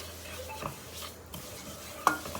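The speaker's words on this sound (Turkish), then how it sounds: "En ısık e, derecede şöyle tarhanayı bir karıştıralım." Tarhana being stirred and roasted in a pan: a quiet, low sizzle with occasional spoon scrapes and a sharper clink against the pan.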